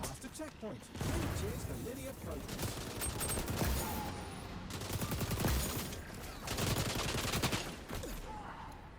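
Rapid-fire weapon gunfire in the video game XDefiant, sustained bursts of automatic shots with brief pauses between strings, loud and close, with a voice talking over it.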